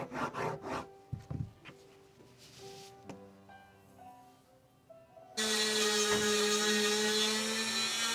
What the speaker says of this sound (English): I decided to tackle those spots with a rust eraser because it fits into the grooves very nicely.